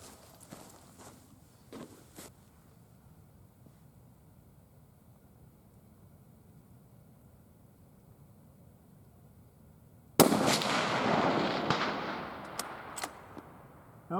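A .280 AI rifle fires at steel targets outdoors, with a sudden loud report after a long quiet stretch and a few sharp cracks and ringing impacts trailing off.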